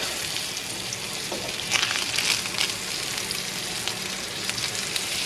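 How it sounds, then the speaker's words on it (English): Steak sears in a hot pan, a continuous hiss of fat and juices with a louder crackling swell midway, steady and close with no voices. "I'll just flip it off to the other side so we can get that sear down"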